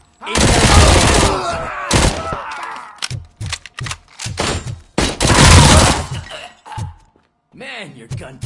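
Heavy gunfire from a weapon in Robocop Rogue City, with loud sustained bursts and short clusters of shots separated by brief pauses, punchy and close, mixed with occasional voices.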